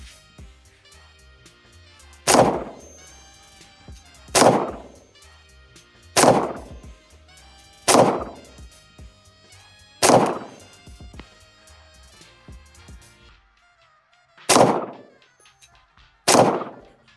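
CZ P09 Nocturne pistol fired with a CZ-75 magazine: seven sharp single shots spaced about two seconds apart, with a longer pause before the last two, each with a short decaying echo.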